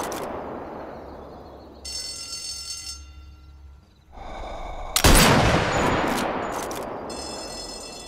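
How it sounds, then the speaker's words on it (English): Gunfire in the VR shooter Sniper Elite VR, with loud sharp shots and bursts mixed with game tones and effects, the biggest blast about halfway through and a ringing tail after it. "I'm doing badly because I'm using the sniper rifle."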